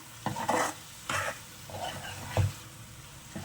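Masala-coated prawns being stirred in a pan for a prawn fry, several separate scraping strokes of a utensil against the pan over a soft continuous sizzle.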